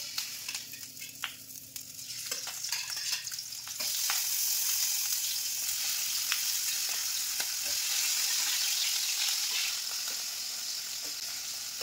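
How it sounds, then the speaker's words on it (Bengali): Prawns coated in turmeric and salt fry in oil over a low gas flame, quiet crackling at first, then a fuller, steady sizzle with small pops, close and without talk. "এবার খুব অল্প পরিমাণে গ্যাসের ফ্লেমটা লোতে এপিট ওপিট একটু ভেজে নেব লাল করে"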